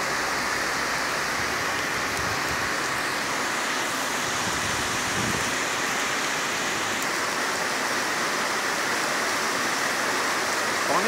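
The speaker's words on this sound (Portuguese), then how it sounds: "Chuvona pesada aqui, Chapadão." Heavy rain pours down in Livramento, Brazil, a dense, loud, unbroken hiss of water on surfaces throughout, with a faint passing vehicle underneath.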